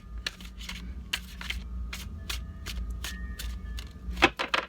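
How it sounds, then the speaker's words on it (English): Repeated riffling bursts of tarot cards being shuffled up close, a steady run of crisp flutters with a sharper snap near the end. "Can't remember how many times I shuffled."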